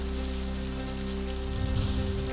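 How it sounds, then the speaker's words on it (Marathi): Light drizzle falls steadily on a surface in a Maharashtra town, a soft continuous patter of rain with faint droplet texture and a low steady hum beneath, no voices. "रिमझिम पावसामुळे शहरासह परिसरात गारवा निर्माण।"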